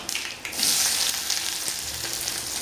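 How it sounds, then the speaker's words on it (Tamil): Mustard seeds, four dried red chillies, onion, coriander leaves and curry leaves fry in hot oil for a buttermilk curry, a loud continuous close sizzle with bursts of crackle and some stirring, no voices. "இதை இப்போ நல்லா அப்படியே பொன்னிறமாக அப்படியே வர வரைக்கும் வதக்கலாம்"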